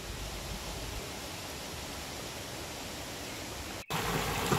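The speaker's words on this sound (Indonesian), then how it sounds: "Gemericik sungai, hembusan angin, menambah kealamian suasana di sini." Steady rushing water from a river at the Curug Badak waterfall near Tasikmalaya fills the air as a continuous broadband hiss, with wind mixed in and a brief dropout near the end.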